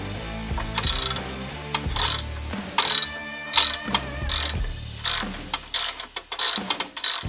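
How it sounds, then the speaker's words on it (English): A ratchet turning T45 Torx bolts out of a Harley-Davidson Touring engine guard, loud close bursts of rapid clicking repeated several times with brief pauses and soft metal knocks between them. "With your T45, go ahead and take this one and the one on the other side off."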